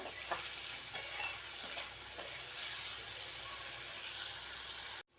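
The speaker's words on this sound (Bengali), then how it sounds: "আলুটাকে ভালো করে ভেজে নেব" Steady, dense sizzling of potatoes frying in hot oil, with a few stirring scrapes early on, close and fairly loud throughout.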